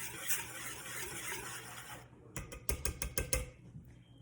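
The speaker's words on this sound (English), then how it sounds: "So we're just going to mix those dry ingredients together, whisk them together here." Metal whisk stirring dry ingredients, baking soda and kosher salt, in a bowl for beef jerky cookie dough: a steady scraping rattle, then a run of sharp, rhythmic clinks against the bowl, close and fairly quiet.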